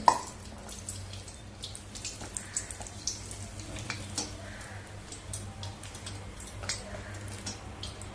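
Khasta pattis frying in hot oil at home, a soft steady bubbling with small irregular crackles and pops, quiet and close with no talk.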